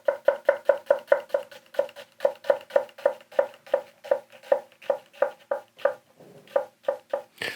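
A santoku knife chops through an onion on a cutting board in a quick, even run of crisp knocks, about three per second, close and clear, with a short pause near the end before a few final strikes.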